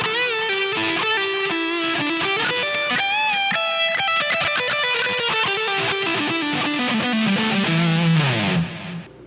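A distorted electric lead guitar plays a flowing melodic line with bends and a wide, cavernous reverb tail, loud and unaccompanied by voices.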